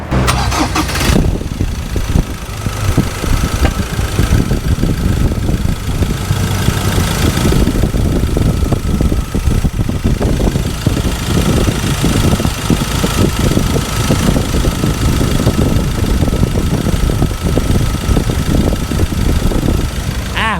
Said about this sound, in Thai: ฟังเสียงเครื่องกัน